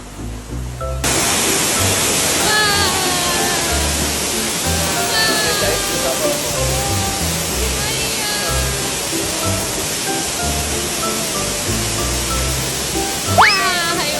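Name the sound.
waterfall in Hong Kong Park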